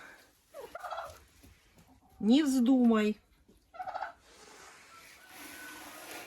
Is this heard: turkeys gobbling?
yes